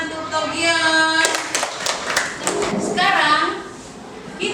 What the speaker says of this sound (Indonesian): Tepuk tangan untuk Togion.